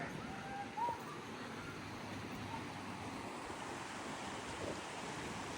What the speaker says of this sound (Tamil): வாட்டர் ஃபால் சவுண்டு கேட்கும்னு நினைக்கிறேன்.